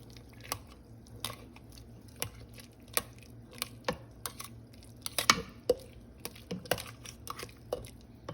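Kheer rice pudding being stirred together with whipped cream in a pot, giving soft, wet, irregular spoon clicks and squelches that repeat at close range in a quiet kitchen, with no talking.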